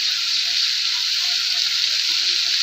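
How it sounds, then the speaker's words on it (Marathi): Spicy cowpea and potato vegetable seasoned with Maggi masala sautés in a pan, producing a close, even, continuous hissing sizzle with no clear breaks. "आणि याला थोडं परतून घ्यायचं 1 मिनिट।"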